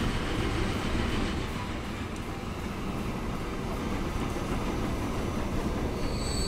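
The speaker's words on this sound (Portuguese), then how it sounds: "O trem chega." A freight train in the Transport Fever video game arriving at a station to load iron ore, a steady loud rumble of rolling wagons and wheel noise with faint squeals, continuous and close throughout.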